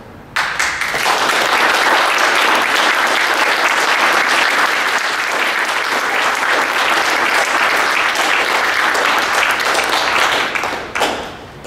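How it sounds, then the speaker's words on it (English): An audience at a public talk gives a loud, dense round of applause in memory of journalist colleagues killed in the line of duty, a sustained roar of many hands lasting about ten seconds before tapering off. "I would like to request that you make a round of applause."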